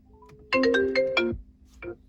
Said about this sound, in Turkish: Şöyle bağlı bulunan Apple telefonu arıyorum.